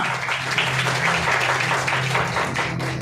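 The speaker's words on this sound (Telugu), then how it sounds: "గట్టి చప్పట్లు పడదామా?" A church congregation claps loudly together, a thick, steady wash of applause from many hands filling the room for the whole stretch.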